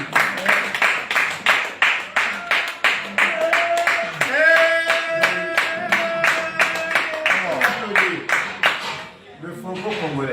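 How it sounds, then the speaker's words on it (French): Wedding guests at a church celebration clap in a regular, rhythmic beat, steady and fairly close, while a voice sings or calls over the middle stretch and talk takes over near the end. "on l'applaudit"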